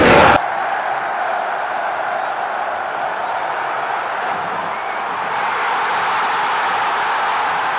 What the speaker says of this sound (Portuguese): a torcida do Flamengo canta aí